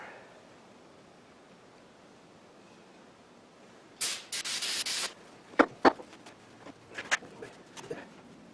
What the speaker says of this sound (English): we're gonna spray some more